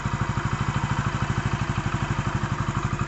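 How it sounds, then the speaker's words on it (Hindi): A Passion Pro motorcycle fitted with a CD100 cylinder kit idles close by with a fast, even thumping beat. It runs alone with no talk over it. "फाइनली ये गाड़ी स्टार्ट हो चुकी है। इस गाड़ी का आवाज़ भी आप सुन सकते हैं कि बहुत ही अच्छी आवाज़ है,"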